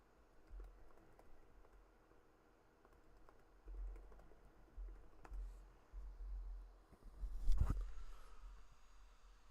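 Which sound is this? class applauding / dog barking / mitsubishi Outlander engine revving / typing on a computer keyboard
typing on a computer keyboard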